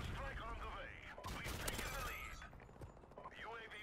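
Rapid automatic P90 submachine gun fire in Call of Duty Modern Warfare Remastered multiplayer, dense crackling bursts mixed with game effects and someone talking over the action.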